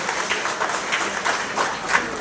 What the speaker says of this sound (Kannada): ಇದಕ್ಕೆ ಜೋರಾಗಿ ಚಪ್ಪಾಳೆ ಬರ್ಬೇಕಂತ ಕೊಟ್ಟು ಬರ್ತೀನಿ